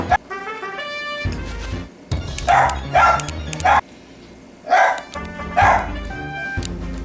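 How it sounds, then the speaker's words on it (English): A dog barks loudly and repeatedly in bursts, close by, with pauses between volleys over a background of music. "My dog is barking really loudly."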